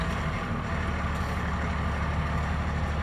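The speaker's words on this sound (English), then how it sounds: "start the truck." A Class B truck engine rumbles loud and close at a steady idle, a dense low drone with no variation and no talking.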